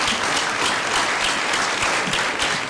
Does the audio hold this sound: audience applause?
yes